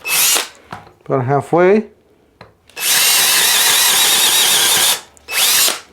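DeWalt XR 845 and Hercules brushless impact drivers driving fasteners side by side, a loud sustained whirring burst of several seconds followed by a shorter second burst, with brief talk and a shout just before.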